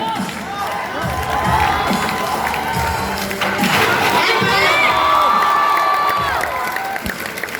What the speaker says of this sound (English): Guys, please cheer up for them.